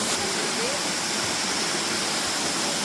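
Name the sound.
Mridubanda waterfall in Daringbadi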